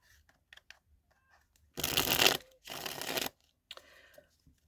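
A tarot card deck being shuffled in two quick, close bursts of papery riffling, each lasting under a second, with near silence around them.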